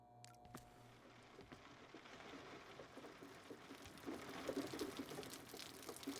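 Rain falls inside a prison cell in the Call of Cthulhu video game, a faint watery patter and trickle that slowly grows denser and louder, heard alone without talk.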